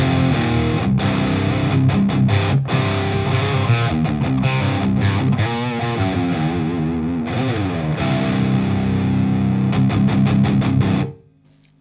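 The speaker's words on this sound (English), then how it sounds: "I'm only using the distortion of the amplifier without any uh, additional accessories. So this is the sound." Electric guitar played through an amplifier's own distortion with the overdrive pedal switched off, a loud, sustained saturated tone of strummed chords and riffs ringing continuously, then cutting off abruptly near the end.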